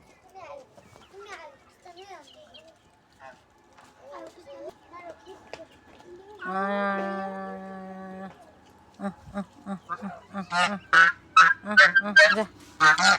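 Domestic geese honk up close, first in a sustained nasal call, then in a burst of loud, rapid repeated honks, while children's voices and chatter sound in the background.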